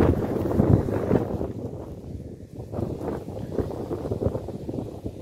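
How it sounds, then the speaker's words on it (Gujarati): Strong wind blows across an open farm field, a low rumbling gusty roar that buffets the microphone and swells and eases over several seconds. "પવન છે"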